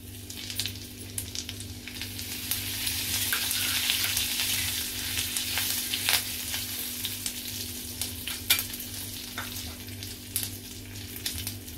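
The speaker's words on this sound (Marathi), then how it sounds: "आता आपण फोडणीचे साहित्य घालूया याच्यामध्ये, मोहरी, जिरे, कढीपत्ता वगैरे, हिंग" Mustard seeds, cumin, curry leaves and asafoetida sizzling in hot oil for a tempering, a continuous close crackle with sharp popping bursts scattered throughout and no talking.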